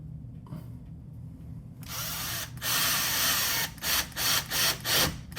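A power drill with a Craftsman bit drives screws into door hinges, whirring in a long steady burst and then several short pulsed bursts up close, with no talking.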